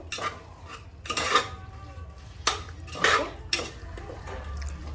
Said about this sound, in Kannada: ಇದು ಚೆನ್ನಾಗಿ ನಾವು ಈ ಥರ ಮಿಕ್ಸ್ ಮಾಡಬೇಕು